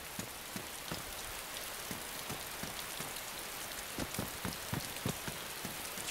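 Steady rain in the survival video game DayZ forms a dense, even hiss, with regular soft drop taps on a surface spread throughout and no voices.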